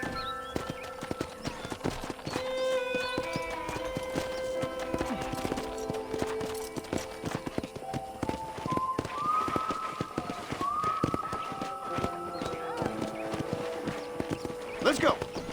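Horse hooves clip-clop steadily as a horse is ridden through a ranch in the video game Red Dead Redemption, the rhythmic beats sitting under game music and ambient sound.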